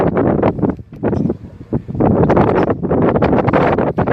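Strong wind gusts buffet the microphone at an outdoor tent camp at Standing Rock, where straw bales are stacked around a tent, loud rumbling bursts rising and falling with brief lulls.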